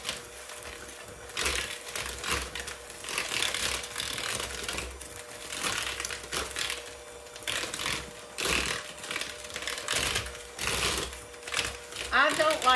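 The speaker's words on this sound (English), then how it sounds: "I don't like this mixer as well as I do the other I had" Hand mixer creaming butter pieces with sugar for a buttermilk pie, a loud whirring motor running in bursts with rattling beaters against the bowl, close and continuous.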